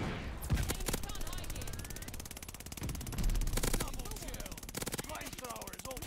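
Sustained rapid bursts from an MG42 machine gun in Call of Duty Vanguard, trigger held down for long continuous strings of fire with brief breaks, loud and close, with bits of voice chat mixed in.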